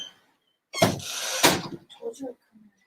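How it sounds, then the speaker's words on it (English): A door opens as someone comes into the room: two sharp, loud bursts of rattling and thudding close by, followed by softer knocks and shuffling. "someone is coming in my door"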